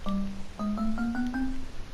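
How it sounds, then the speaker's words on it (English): A run of six short metallic, bell-like tones from a Minecraft note block on an iron block, plucked one after another and stepping gradually higher in pitch, clear and close. "Moving on, we got iron, which used to sound exactly like the stone category"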